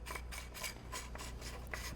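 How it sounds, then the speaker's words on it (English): Rhythmic rasping twists as the filter cap is unscrewed on a Kern orchard machine, several even turns close up over a low mechanical hum. "Just unscrew the cap,"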